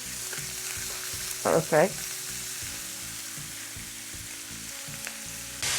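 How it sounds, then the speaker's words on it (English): Steak bites sizzle and fry steadily in a pan for a chimichurri steak recipe, a continuous close crackle with a couple of brief louder bursts partway through and a short spoken word. "it is time to flip the steak over"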